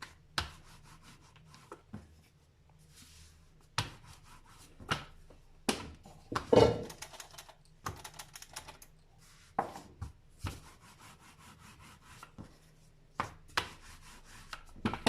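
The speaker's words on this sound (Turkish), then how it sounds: "Ve hafif unladığımız tezgahta ince bir şekilde açıyoruz." Bazlama dough is rolled out thin on a lightly floured counter with a rolling pin, giving soft intermittent rubs and thumps at irregular intervals against a quiet kitchen background.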